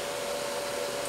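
X axis of a Hypercube Evolution 3D printer stepping across in 100 mm moves, a steady close motor whine holding one tone with a broad hiss beneath it, unbroken throughout.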